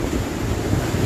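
Strong wind of Super Typhoon Goni (Rolly) roars across open ground, a loud, continuous blustering rush buffeting the microphone with no pause.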